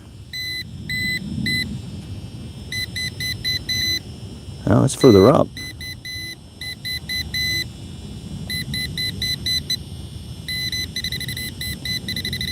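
An old RadioShack metal detector sweeping over a front yard gives repeated short electronic beeps in clustered bursts, clear and close over outdoor background, with a person speaking briefly midway.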